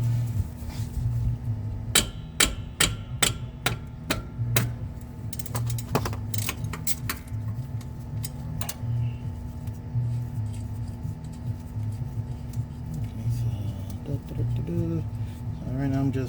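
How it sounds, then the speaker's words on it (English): Someone loosens the four bolts holding an axle to the rear differential housing on a 2002 Toyota 4Runner, sharp metallic clicks and ratchet-like rattles in bursts under a low hum, with someone talking through much of it. "I'm just removing the 4 bolts that's holding the axle to the housing"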